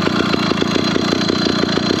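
A Phantom 85 motorized bicycle engine revs rather high, a loud close two-stroke buzz with a fast pulsing rhythm that holds steady throughout.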